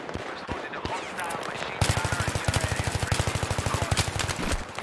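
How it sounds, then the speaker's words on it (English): Rapid automatic gunfire from Battlefield 3 on PS3 rattles in quick, steady bursts, growing louder and denser partway through, with a voice talking faintly underneath. "The guy shooting."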